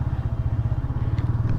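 A modified Yamaha R15 motorcycle idles nearby with a loud, rapid, throbbing exhaust pulse that runs evenly throughout, and no other sound competes with it.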